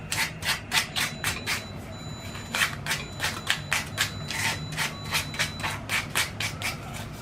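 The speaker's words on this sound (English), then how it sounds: "I'm going to take a little bit of sandpaper and sandpaper at the top of this so it's nice and smooth." Sandpaper rubs over the top of a millinery spinner in quick rhythmic strokes, a close, dry scratching that repeats in short bursts.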